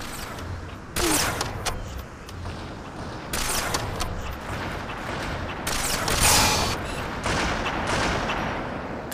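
Sniper rifle gunfire on the Sanctuary map in Halo 2 Team Snipers Slayer, several sharp shots booming at irregular intervals over continuous game noise.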